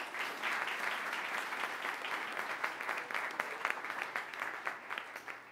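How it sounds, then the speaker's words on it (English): A faculty member is welcomed with warm applause from an indoor audience, steady, dense clapping that holds for several seconds at moderate distance without fading. "We could give her a round of applause."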